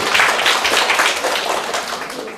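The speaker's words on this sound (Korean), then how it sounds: "박수 한번 쳐주시고." A lecture-hall audience at a Korean real-estate law exam prep class bursting into steady applause, many hands clapping together close and loud for a couple of seconds.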